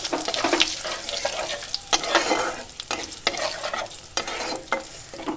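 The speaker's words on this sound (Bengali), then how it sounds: "এই ফোড়নটা ভালো করে ভেজে নেব" Whole cumin, bay leaf, five-spice, dried red chili and a pinch of asafoetida spit and crackle in hot oil, a busy sizzle broken by sharp pops and the scrape of a spoon stirring, close and loud.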